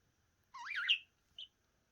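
Trained budgerigar giving a short warbling chirp followed after a brief pause by a single quick high tweet, close and clear against a quiet room.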